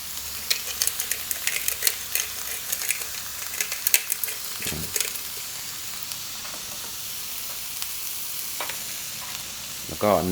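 Picanha beef seared fat side down in a hot pan with butter, salt and pepper, a steady close sizzle and crackle with sharp spitting pops and a brief utensil clatter near the end.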